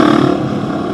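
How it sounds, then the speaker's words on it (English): A Honda XR250 motorcycle engine pulling second-gear wheelies, a loud, close, steady drone with rough clattering texture over one second. "Those little wheelies I was doing were just second gear ones."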